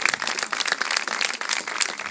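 Steady applause from a crowd, dense overlapping claps filling the room without a break, fairly loud and close.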